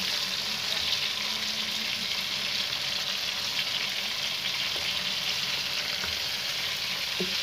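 Chicken karahi masala fries loudly in a pan as tomatoes are added one by one, a dense, constant close sizzle that holds steady throughout, with only faint knocks beneath it.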